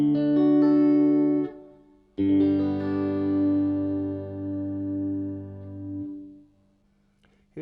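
Three sustained strummed guitar chords in an open G tuning, each ringing out long and full, the first cut off before the next two follow and the last decaying into near silence.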